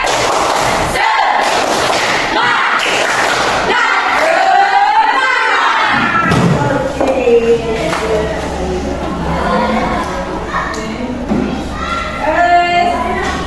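A classroom of students performs a rhythmic spirit clap chant, with bursts of group clapping and loud shouted voices in unison, ending with children calling out together.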